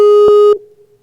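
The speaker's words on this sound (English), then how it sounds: "Oh, there's a beep." A loud phone-line beep during a radio call-in show, a steady tone cut by two brief breaks before it fades out quickly, with no voices.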